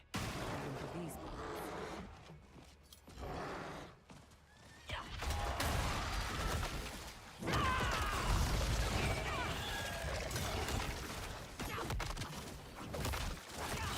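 A horse whinnies loudly in a video game amid game-like clatter and crashing effects, with hoofbeats and a voice talking at times.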